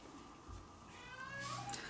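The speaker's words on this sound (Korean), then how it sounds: "지금 저희 집에 고양이가 울고 있으니 너무 놀라지 마세요" A house cat meows at home, a few thin drawn-out cries rising over low background noise, moderately close and alone without talk.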